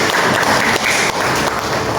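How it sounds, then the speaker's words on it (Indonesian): A church congregation at a Christmas service applauds loudly and steadily, a dense wash of clapping filling the space without pause. "Tepuk tangan untuk Tuhan Yesus"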